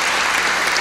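Applause from the audience at a formal solemn session honoring DeMolay Day in a legislative chamber, a dense steady wash of clapping that stays loud and even throughout without any talk over it.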